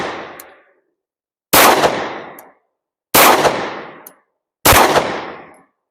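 Four sharp, loud pistol shots from a compact Ruger fired with iron sights at an outdoor range, spaced roughly a second and a half apart, each ringing out with a decaying echo before silence.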